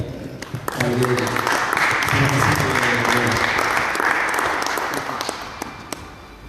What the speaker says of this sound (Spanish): le pido un aplauso, por favor